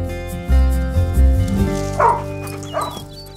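A dog in a film scene lets out a few deep woofs followed by higher yips and whimpers, loud and close over a faint musical score.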